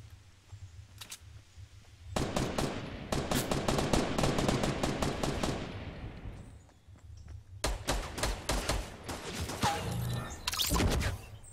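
Gunfire in Fortnite Battle Royale: rapid automatic bursts crackle in two long volleys separated by a short lull, loud and close, with scattered single shots between them and no talking.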